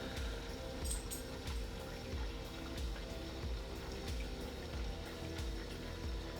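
Steady water flow from a random flow generator nozzle in an aquarium, a continuous churning rush with a low pump hum underneath and faint clicks, constant in level throughout.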